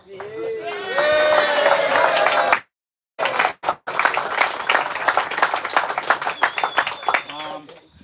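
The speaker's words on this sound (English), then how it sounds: "How about another clap for Phil's side?" Audience applause at a surfboard-shaping event held under the night sky, a burst of dense clapping for several seconds that breaks off, then resumes as scattered, uneven claps with voices talking over it.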